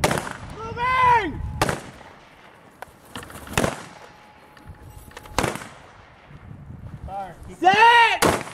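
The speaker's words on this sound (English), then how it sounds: "now the guys are going to start getting into some actual live fire scenario training" Live-fire firearms training produces four sharp, loud gunshots spaced a couple of seconds apart, with people's voices calling out between the shots.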